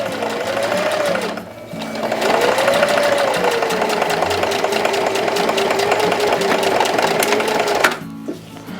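Sewing machine stitching a vest neck seal, a loud close whir that runs nearly nonstop with a brief dip early on before it cuts off near the end.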